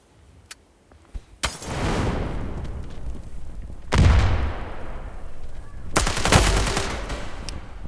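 Gunfire in a first-person shooter video game, a couple of faint shots followed by three loud, sharp bursts, each trailing into a sustained rumbling wash of noise.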